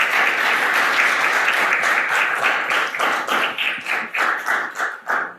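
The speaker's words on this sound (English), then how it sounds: "let's give the speakers another round of applause" An audience at a solar town hall at Mt. Pleasant City Hall gives the speakers a round of applause. Dense clapping at first thins into slower separate claps near the end, with no speech over it.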